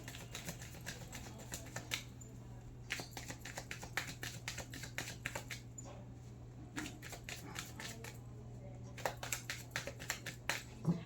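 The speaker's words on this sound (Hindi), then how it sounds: "जब तक मैं कार्ड शफल करूं" Tarot cards shuffled by hand, making bursts of quick riffling clicks and flicks in rapid clusters with short pauses between, close and quiet over a steady low hum.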